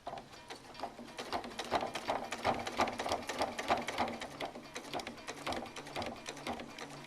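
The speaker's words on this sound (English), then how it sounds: "I finish with a little bit of a reverse of a couple of stitches, and I do use my thread cutting feature" A sewing machine runs steadily while stitching a quilt block seam at a sashing join, giving a close, rhythmic mechanical clatter that continues evenly throughout with no voices.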